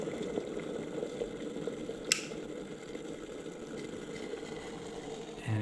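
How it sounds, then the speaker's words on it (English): Water poured onto drip coffee in a hanging filter, a quiet, steady trickle and soft liquid splashing with one brief clink, close and alone. "Let's pour some water onto it."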